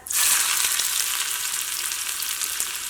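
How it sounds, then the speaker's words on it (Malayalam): Shallots and curry leaves tossed into hot oil after mustard seeds have popped burst into a loud, dense sizzle that stays strong and even throughout, close up with no voices. "ഇനി ഇതിലേക്ക് ചുവന്നുള്ളിയും കറിവേപ്പിലയും ചേർക്കുക."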